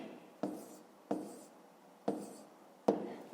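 Numbers are written by hand in a fifth-grade maths exercise, four separate close scratchy pen strokes spaced about a second apart, quiet and alone.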